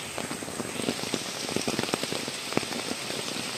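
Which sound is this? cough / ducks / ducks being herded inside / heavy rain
heavy rain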